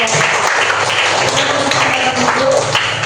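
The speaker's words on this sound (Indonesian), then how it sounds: "Kasih tepuk tangan dulu." A room full of people claps loudly and continuously for a few seconds, a dense, close wash of applause.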